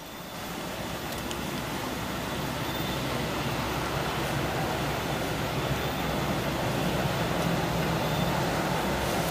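The KTL Pertamina train rolls past in a steady, continuous rumble of wheels and carriages, loud and unbroken from start to finish, with no voices heard.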